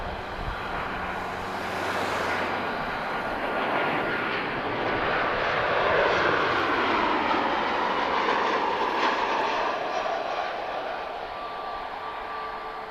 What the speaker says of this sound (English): I do love these 737 touchdowns from here